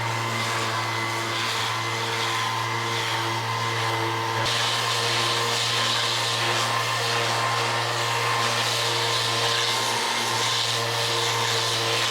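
A power sander works steadily over the glossy-finished surface of a sailboat during rough sanding, a continuous loud motor whine and hum that holds its pitch throughout, alone with no talk.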